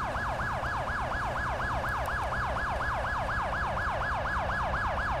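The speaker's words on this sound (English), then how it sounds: "Let's cut our siren off." Police car siren in the GTA 5 video game, a loud, fast wailing yelp that sweeps up and down in a steady repeating cycle over a low engine hum, with no talk.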